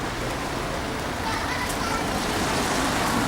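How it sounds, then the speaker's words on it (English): Steady rain falling outdoors in a city, a dense, even patter heard close and continuous throughout. "Yes, it's raining again."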